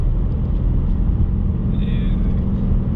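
A 2020 Ford Mustang Bullitt cruising at about 60 miles an hour, with a steady low engine and road rumble throughout and a brief faint high whine midway.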